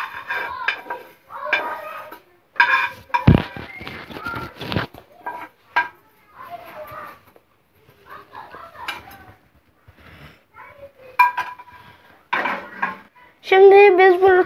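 A plate is taken out among pots and dishes in a home kitchen while a milk dessert is being made. Sharp ceramic clinks and clatters come close and scattered, in irregular bursts with quieter gaps between them and a busier run of clatter at the end.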